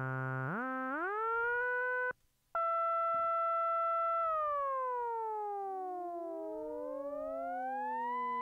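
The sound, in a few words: synthesizer note with pitch envelope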